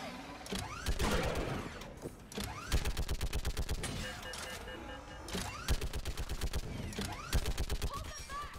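A mounted gun fires in Mass Effect 3 in rapid repeated bursts, loud and close, with short pauses between volleys and battle noise underneath.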